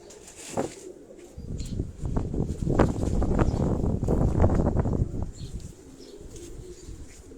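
Pigeons coo with low, soft, rolling calls in a cluster by a rooftop breeding cage in Karachi, alongside faint rustling and shuffling nearby.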